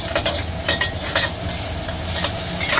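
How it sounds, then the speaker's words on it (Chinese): Eggs frying in hot oil in a wok at a Cantonese congee stall, a loud continuous sizzle with stirring scrapes throughout, no talk. "鸡蛋要不急着翻，让它先粘锅一下，然后炒起来锅子不会粘"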